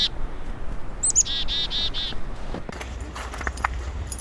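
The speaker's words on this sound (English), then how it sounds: "Beautiful birds." Birds chirping in short, high tweets in Point Pleasant Park, Halifax, in winter, with a brief run of repeated calls, followed by rustling and light background noise.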